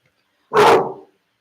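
A single loud, close dog bark rings out once in an otherwise quiet room.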